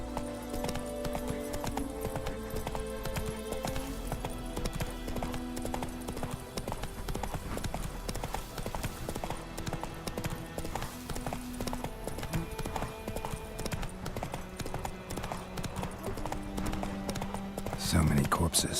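Horse hooves clip-clop steadily in The Witcher 3, a rhythmic trotting beat running the whole time beneath game music and effects, with a louder burst near the end.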